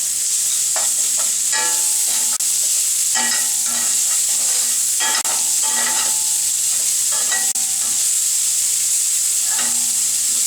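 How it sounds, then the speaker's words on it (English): Onion sautés in a hot pan, a loud continuous sizzle with repeated scraping and stirring strokes of a utensil against the pan, no voices. "And then our onion goes in. Just have to saute that down."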